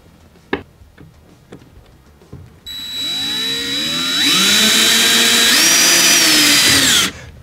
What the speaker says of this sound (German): So, nun seht ihr den Duo Blade, selbstbohrend mit dem Metallschwert, ohne Vorbohren mit der Kreuzschlitzaufnahme.